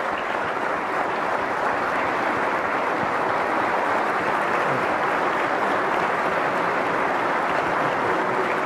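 An assembly hall audience at the 2023 West Virginia State of the State address claps steadily and loudly, a thick continuous roar of applause that keeps going without letup.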